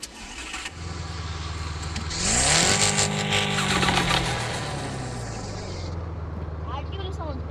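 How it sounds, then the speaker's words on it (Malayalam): A Honda City car engine cranks and catches after a low idle hum, surging into a loud rev before settling back to a smooth, steady idle nearby. "ഓക്കെ. വണ്ടി നമുക്ക് സ്റ്റാർട്ട് ആകാം."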